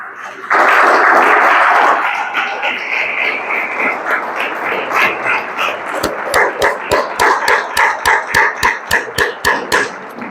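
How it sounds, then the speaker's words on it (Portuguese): A church congregation applauds God during a sermon, opening with a swell of mixed clapping and noise that settles into loud, rhythmic unison claps beating steadily near the end. "Vamos aplaudir o nosso Deus e Pai."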